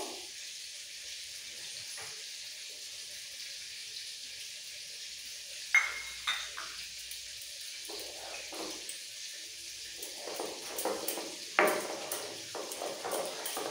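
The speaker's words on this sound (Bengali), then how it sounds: "এই পটলটা ভাজা হতে হতে" Pointed gourd (potol) frying in a pan gives a soft, steady sizzle, joined after the midpoint by intermittent scraping and clinks of a utensil stirring against the pan.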